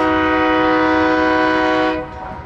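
A loud, sustained train horn blares close by over the rumble of rail cars in the Roseville train hub, Placer County, then cuts off, leaving the low roll of the passing train.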